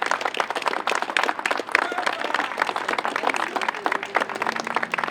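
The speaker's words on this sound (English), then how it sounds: "So if we could just quickly give them a big round of applause." A crowd claps at an outdoor mural reveal and ribbon cutting, brisk and continuous applause with scattered voices mixed in throughout.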